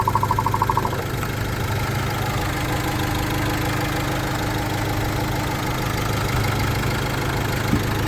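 A van engine idles steadily with a low, even mechanical rumble and faint knocking, loud and close, with no voices.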